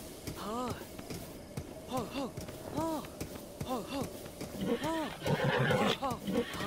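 A horse in Zelda: Breath of the Wild gives several repeated whinnies and snorts in short bursts, moderately close, over faint hoof clip-clops, with someone talking over parts of it.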